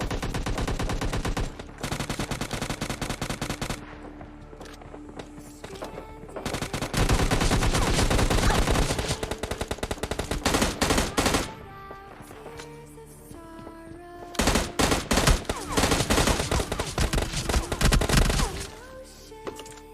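Rapid gunfire bursts in the mobile battle-royale game PUBG Mobile Lite during a squad fight, loud automatic volleys alternating with brief lulls and scattered single shots across the whole stretch.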